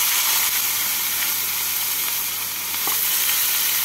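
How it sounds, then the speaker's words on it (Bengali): Chopped onion frying in hot oil tempered with cumin and bay leaves for muro alur ghonto, a continuous close hissing sizzle with a few faint clinks, no voices. "এবার এর মধ্যে আমি দিয়ে দেবো একটা বড় সাইজের কুচনো পেঁয়াজ।"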